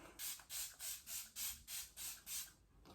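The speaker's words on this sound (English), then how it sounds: "set it with this Lacquera illuminating setting spray" Eight quick, evenly spaced bursts of illuminating makeup setting spray hiss in a steady rhythm, close and fairly soft.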